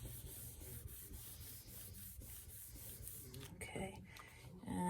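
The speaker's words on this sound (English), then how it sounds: "So you wanna give that a good rub, good amount of pressure." Firm rubbing pressure on a freshly glued page of a Disney-themed 8x8 pop-up mini album, a soft continuous scraping under light background noise, ending in a brief louder shuffle of paper.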